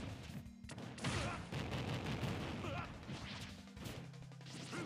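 Samus's charged shot hitting an opponent in a Super Smash Bros match during a league event, heard as a dense loud burst of crashing impacts and whooshes over continuous game noise, with commentary running underneath.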